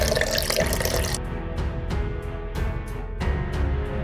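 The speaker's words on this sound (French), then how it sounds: "Vous pouvez couvrir le filet d'eau." Tap water runs steadily to cover smoked ribs in a kitchen, a continuous close rush that breaks into several short pulses and splashes as the flow shifts, with no talking.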